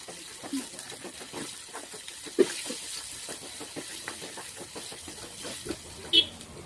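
Whole tempering spices frying in a spoonful of hot oil for a gongura and amaranth leaf curry give a steady close sizzle with scattered crackles and small pops, louder bursts near the middle and end.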